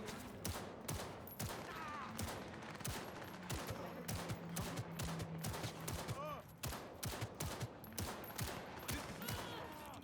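A police shootout in the video game Cyberpunk 2077, with rapid, dense bursts of gunfire, including automatic fire, continuing almost without pause for the whole stretch, loud and close.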